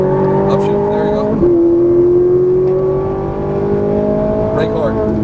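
A Ferrari 458 Italia engine pulls hard under full throttle on a race track, a loud, steady, rising drone that climbs in pitch with a brief dip partway, while a voice talks faintly underneath.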